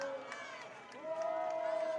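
A high school football crowd with its student section cheers from the stands, a broad roar that swells toward the end, with a commentator talking over it.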